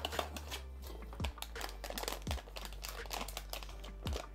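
Packaging around a small figurine being opened carefully, with close crinkling and crumpling plastic and a few soft thumps and tearing sounds in an irregular rhythm.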